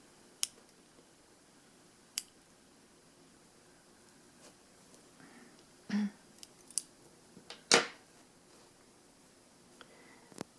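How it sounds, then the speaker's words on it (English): Scissors snip through a piece of yarn thread while finishing a crocheted asymmetric rose, giving a few sharp, close clicks spread out over quiet, with one fuller cut near the middle. "So now I can cut this piece of thread."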